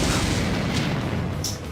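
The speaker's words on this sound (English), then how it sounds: "A series of explosions and gunshots echoed outside" Explosions and gunfire from a visual novel battle scene, a dense rumbling barrage of booms with crackling bursts, steady and loud throughout with a sharper crack near the end.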